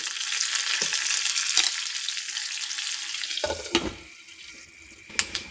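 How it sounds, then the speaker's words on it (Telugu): A tempering of mustard seeds, lentils, cumin, dried chillies, curry leaves and asafoetida sizzles loudly in hot oil, then the hiss thins out and is broken by a few sharp clinks. "తాలింపు అయితే బాగా వేగిపోయింది"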